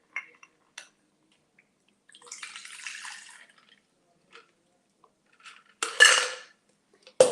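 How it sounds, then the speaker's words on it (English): A homemade bourbon old-fashioned with lemonade poured through a cocktail strainer: a soft liquid trickle, then a brighter louder splash, between scattered small clinks and quiet gaps, with no talking. "And then we pour this in here with the strainer."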